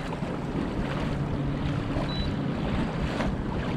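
Old Town Autopilot kayak motor running through choppy water with swells, a steady broadband rush of motor, water and wind noise holding constant throughout, with no talk.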